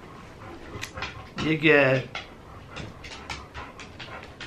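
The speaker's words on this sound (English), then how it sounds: "sorry if you hear my dog" A fidgety pet dog whimpers and pants in the background, with a brief louder whine in the middle and soft breathy panting around it, while a person speaks a short question nearby.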